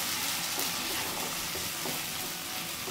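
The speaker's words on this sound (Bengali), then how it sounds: "এবার আমি এই তেলে কালো জিরে দিয়ে দিচ্ছি।" Nigella seeds and a prepared spice mix fry in hot oil while being stirred, making a steady, dense, close sizzle with faint scraping from the stirring, and no one speaks.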